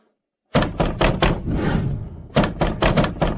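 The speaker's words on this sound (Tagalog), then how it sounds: "May kumakatok talaga." Someone knocks hard on a door in quick bursts of loud, close raps, two rapid sets separated by a brief pause of rustling noise.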